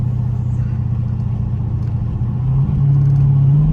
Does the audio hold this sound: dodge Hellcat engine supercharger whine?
yes